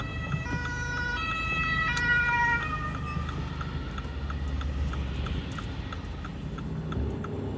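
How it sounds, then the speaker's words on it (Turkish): An ambulance siren wails with rising and falling tones, loud at first and then fading into a rhythmic pulse as it approaches from the opposite direction and passes amid road noise. "Evet karşıdan ambulans geliyor."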